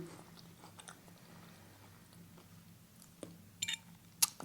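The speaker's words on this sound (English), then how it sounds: "Can you hear the crunch of the water chestnuts?" Close, quiet chewing of green bean casserole with a few sharp crunchy bites of water chestnuts near the end, no talking.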